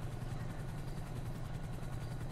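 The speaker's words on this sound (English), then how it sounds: "there's helicopters and all sorts going on" A helicopter in a GTA roleplay game hovers overhead with a steady, continuous low rotor drone that holds at an even level throughout, with no talk over it.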